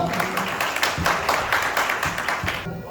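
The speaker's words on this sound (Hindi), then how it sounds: "मैं तालियों से पूरा स्वागत अभिनंदन कराना चाहता हूँ माननीय का" An audience at an astrology conference in Delhi applauds to welcome a guest, with dense, continuous clapping close by throughout.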